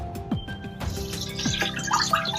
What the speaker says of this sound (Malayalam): അപ്പോൾ നമുക്ക് അഞ്ച് ഗ്ലാസ് വെള്ളം ഒഴിക്കാം